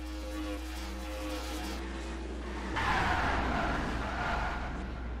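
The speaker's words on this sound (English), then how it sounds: "A very large incident down the front straight, and the 12 car actually got turned upside down in an impact with DiBenedetto." A NASCAR-style race car skids and crashes on the front straight at Charlotte in the NR2003 racing game, a loud sustained engine roar with tire scrubbing that surges into a harsher burst of impact noise partway through.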